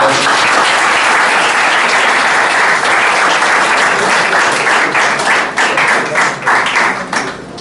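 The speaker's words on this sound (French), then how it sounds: "On les applaudit" Classroom audience applauds a student group after their school presentation: dense, steady clapping from many hands that thins and breaks into scattered claps over the last couple of seconds.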